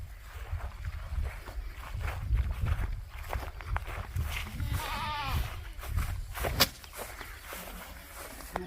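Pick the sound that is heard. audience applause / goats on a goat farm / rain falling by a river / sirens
goats on a goat farm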